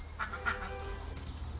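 Ducks quack faintly in the distance over a low background rumble, a few short nasal calls clustered near the start, with no voices present.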